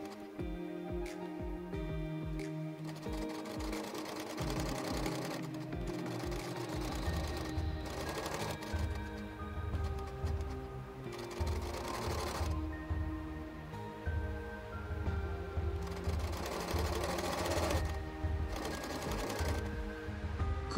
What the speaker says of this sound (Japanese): これからミシンをかけていきます